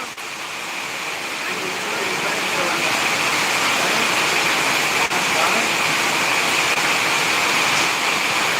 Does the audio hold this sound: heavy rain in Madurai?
yes